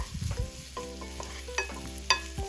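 Minced garlic frying in a teaspoon of reused frying oil, a soft sizzle broken by several sharp spatula scrapes and stirs, close and fairly quiet, with no voices.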